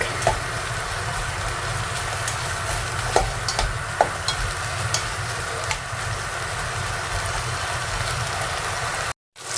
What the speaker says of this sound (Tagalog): Igisa lang natin hanggang lalabas yung mantika niya